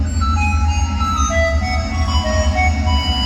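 A phone ringtone plays a steady electronic melody of stepped tones, continuous and fairly loud over a low hum.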